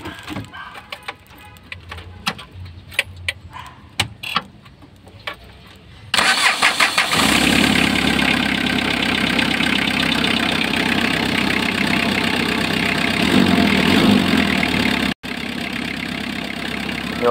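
A diesel engine with a rotary injection pump cranks and catches, then settles into a loud, steady close-up idle with a brief dropout near the end.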